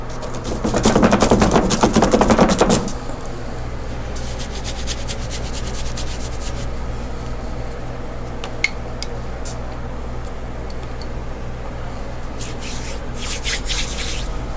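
Paint being scraped and blended on a canvas with a painting tool, a loud rough rubbing burst near the start, then quieter intermittent scratchy strokes over a steady background hum.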